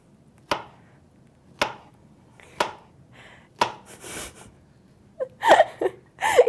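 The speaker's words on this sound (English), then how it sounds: "You're gonna wanna cut these into fairly thin slices" Slices of banana cut with a plastic knife on a cutting board give sharp, evenly spaced taps about a second apart, followed by a louder cluster of quick knocks and scrapes; no one talks.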